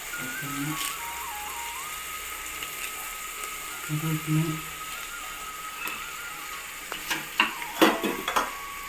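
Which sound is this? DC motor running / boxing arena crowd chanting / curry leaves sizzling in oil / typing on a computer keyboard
curry leaves sizzling in oil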